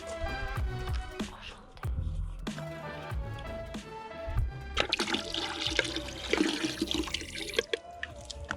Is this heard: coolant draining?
yes